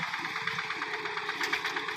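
A Yanmar TF115 LM small engine on a modified multipurpose mini tractor runs steadily at close range with a fast, even chatter and no voices.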